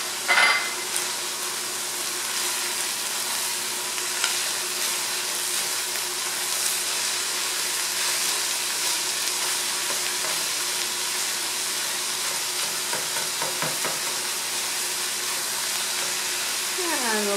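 Green pepper frying in a pot with salt and pepper while stuffed pepper soup is being made, a steady close sizzle with occasional stirring scrapes and clinks near the end.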